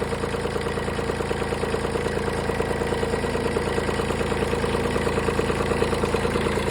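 A Yanmar diesel engine driving a motor pump idles nearby, a loud, even, rapid chugging drone that holds steady throughout.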